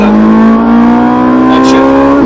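A Ferrari 458 Italia race car accelerates at full throttle, its engine a loud, close, sustained high-pitched roar with rising revs, with a voice faintly underneath.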